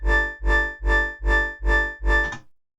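A deep synthesized bass colored by a resonator in Phase Plant pulses six times in an even rhythm, each note swelling and fading with a bright ringing overtone before the last one cuts off into silence.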